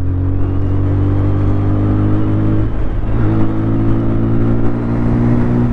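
A TVS Apache RTR 160 4V motorcycle accelerates in fourth gear, its engine a steady, loud, close hum that climbs in pitch, dips briefly midway and then keeps building, with no voices over it.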